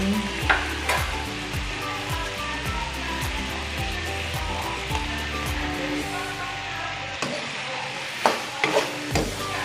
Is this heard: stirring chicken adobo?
yes